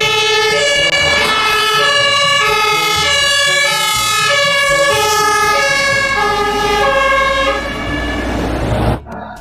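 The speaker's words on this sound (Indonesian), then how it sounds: "Yang ini mobil pemadam kebakaran." A loud electronic toy fire truck siren wails in a repeating up-and-down pattern, steady and close, cutting off abruptly at the end.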